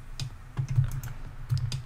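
Computer keyboard keys clicked during Blender work on a Minecraft-style animation: a handful of close, crisp key presses arriving in short irregular clusters, with no talk over them.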